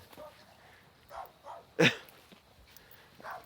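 Lady, a dog out on a walk, gives one sharp bark and a few softer whimpers and yips, with short quiet gaps between the calls.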